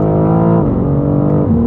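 A BMW M4 CSL producing 540 horsepower accelerates hard, its engine note loud and close, rising in pitch with brief dips at gear changes.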